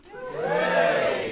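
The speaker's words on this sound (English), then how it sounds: "That was a charming middle-class cheer." A brief swell of cheering and whooping from an audience of Wimbledon locals at a book festival, rising quickly and holding for about a second, not too rowdy.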